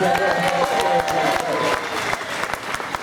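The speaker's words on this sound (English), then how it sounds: "Keep that applause going" Loud, dense applause from a large crowd at a paddock show at the Donington World Superbike round, continuous clapping that fills the space, with voices mixed faintly underneath.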